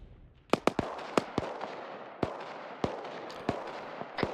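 Gunfire-like explosive cracks from a frag grenade fight in the video game Arma 3, on a winter Altis map: a rapid burst of sharp pops early on, then single loud bangs spaced every second or so, with no talk.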